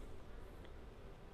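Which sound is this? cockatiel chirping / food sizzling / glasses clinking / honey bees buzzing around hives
honey bees buzzing around hives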